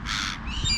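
A crow in trees gives a single short caw, fairly clear and close, over faint background noise with no talking.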